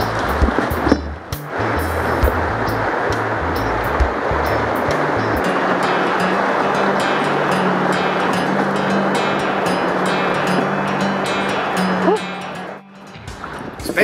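Ocean waves wash and surge around a fishing kayak at sea in Texas, a loud continuous roar of surf with a low engine-like drone entering partway through.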